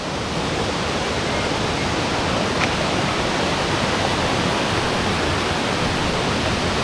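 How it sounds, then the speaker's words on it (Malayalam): A stepped waterfall at Kakkadampoyil, a continuous dense roar of falling water heard up close, steady and unbroken from start to finish. "ഇതാ ഇത് ഒരു സ്റ്റെപ്പ് വെള്ളച്ചാട്ടം"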